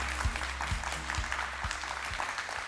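Applause at a school fundraising event, heard as a steady, moderately faint wash of many hands clapping with a few low thumps underneath, continuous throughout.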